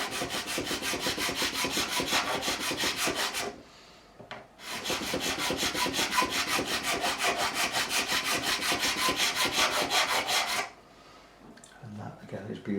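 A metal file rasps back and forth across a bass guitar fret during fret levelling on an Epiphone Thunderbird. The strokes are close, steady and rhythmic, forming two long runs separated by a short pause, with faint voice near the end.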